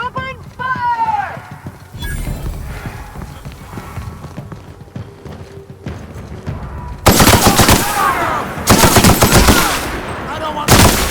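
Gunfire in The Outer Worlds: Peril on Gorgon, with loud bursts of automatic fire and scattered shots that grow into dense, sustained volleys in the second half, under shouted voices.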